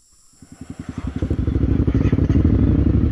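A motorcycle labors up a steep dirt incline, its engine rising from a low rapid thumping into a loud, strained, rough drone with clattering, heard close and alone.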